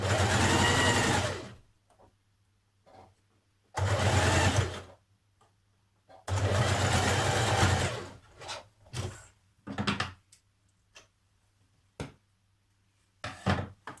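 Several separate bursts of a sewing machine stitching a woven top's sleeve side seam, close and loud, with short pauses and small handling clicks between runs.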